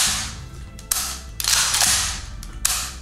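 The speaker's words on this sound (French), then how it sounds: "c'est vraiment le fusil à pompe" A pump-action shotgun with a chromed bolt is racked close up, giving several sharp metallic clacks and slides in quick succession against a steady background hiss.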